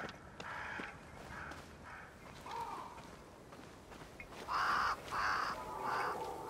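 A raven caws in the video game Banishers: Ghosts of New Eden, a few harsh calls at first, then three louder croaks in quick succession near the end over soft outdoor ambience.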